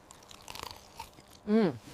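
Crunchy chewing of moss, a string of quick soft crunches and bites close up, followed by a short voiced sound.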